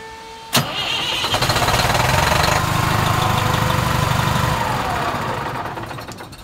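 Diesel engine in a 2001 MCI coach conversion on a J3500 bus chassis, rated at 320 horsepower, cranks with a sharp catch and settles into a loud, steady, rumbling idle heard close up with no talking.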